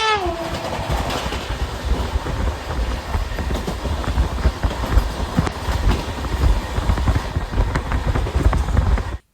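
The Ananya Express, running from Kolkata to Jaipur, rumbles along the rails with rhythmic clattering and a low steady roar, loud and close throughout.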